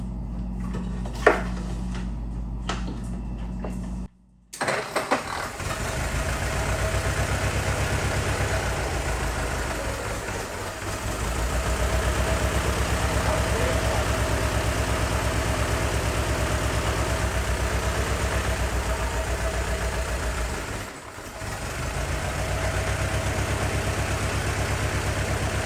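The engine of a 1914 Ford Model T Speedster runs steadily after a few clanks and a brief pause, idling with a rough low throb. It dips briefly near the end, and no voices are heard.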